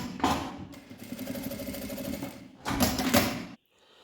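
A sewing machine rattles in a fast, steady stitching run while sewing a compact fabric wallet, pauses briefly, then hammers through a second louder burst before stopping.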